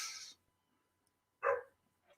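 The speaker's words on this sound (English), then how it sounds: "I know she barking, talking to me." A dog gives two separate short barks, fairly close, with a quiet gap between them.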